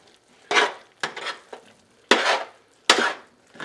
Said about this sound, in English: I'm going to put the lid on this